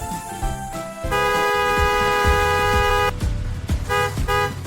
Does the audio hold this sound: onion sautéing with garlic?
no